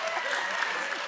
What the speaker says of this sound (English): I love that guy's clapping